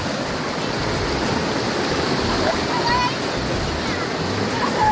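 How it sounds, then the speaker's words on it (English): Swift river flowing beside an outdoor cooking spot, a constant close rush of water with some wind noise and a few faint higher sounds over the top. "I see the water is very swift."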